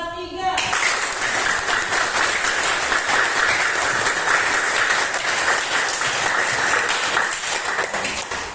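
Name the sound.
classroom children clapping hands as loudly as possible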